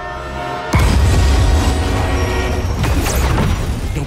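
In the video game Marvel's Spider-Man 2, a sudden heavy rumble and roar bursts in after a quiet hum, then a loud, continuous mechanical clatter of a brakeless runaway train rushing past, with a metallic screech near the end.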